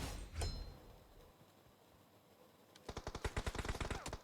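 Rapid burst of automatic gunfire in PUBG Mobile, sharp evenly spaced shots close and loud in the second half after a quieter stretch with a brief earlier bang.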